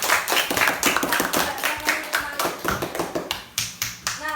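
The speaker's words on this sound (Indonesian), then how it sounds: "beri tepuk tangan dulu" A small classroom group claps for a student, crisp close hand claps in a quick, loosely coordinated rhythm over several seconds.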